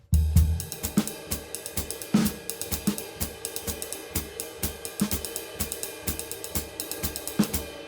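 A drum kit plays a steady, swung jazz groove with crisp ride cymbal taps, snare accents and kick hits, loud and close, with no voices.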